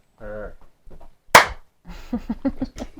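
A single sharp hand clap for syncing rings out sharply and close, with people talking casually just before and after it.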